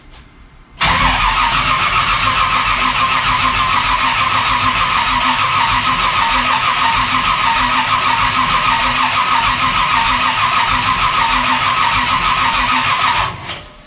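A dirt race car's engine is cranked over by the starter, giving a loud, steady, close mechanical whir that runs unbroken for about thirteen seconds and then cuts off abruptly, with no talking.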